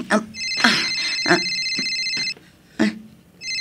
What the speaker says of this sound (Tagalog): Agriring ti cellphone ko.